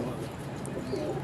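Teddy-breed pigeon cooing softly at close range, low murmuring coos over a steady background hum.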